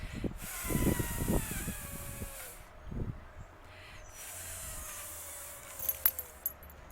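A voice imitates a lawn sprinkler with two long, steady hissing whispers, separated by a few soft breathy sounds.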